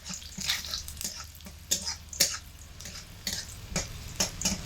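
Whole peeled garlic cloves frying in hot oil, a steady low sizzle broken by repeated sharp crackles and spatter bursts, close up and alone without voices.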